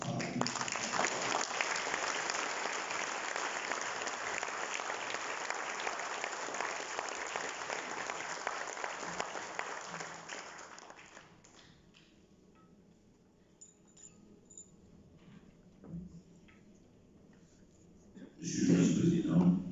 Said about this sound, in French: Je vous demande de faire un gros applaudissement à vous.